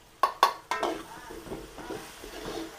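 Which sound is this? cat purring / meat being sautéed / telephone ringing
meat being sautéed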